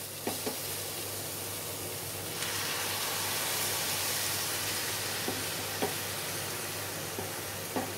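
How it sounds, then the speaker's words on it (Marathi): Milk is poured into beetroot being sautéed for halwa, and a steady hiss and sizzle swells from the pan. Faint clicks and stirring taps come through close by, and no one speaks. "आता मी ह्याच्यात ह्या वाटीने 1 वाटी दूध टाकणार आहे"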